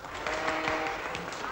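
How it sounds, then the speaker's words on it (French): Applause opening a performance of Stockhausen's Momente, a dense, continuous patter of many hands clapping, steady and fairly close, lasting under two seconds. "Un applaudissement est une réaction"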